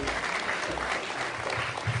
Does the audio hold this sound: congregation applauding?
yes